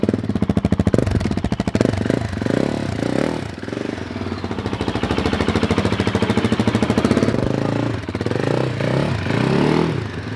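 A Husqvarna 701 Supermoto single-cylinder motorcycle pulling away at dusk, its loud, rapid thumping exhaust pulsing steadily as it accelerates through several gears, staying fairly close throughout.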